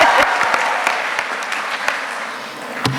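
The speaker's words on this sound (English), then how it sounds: "we can clap there" Graduation audience of families and friends claps briskly, a full, even spread of many hands with a few sharper individual claps standing out, steady and fairly loud throughout.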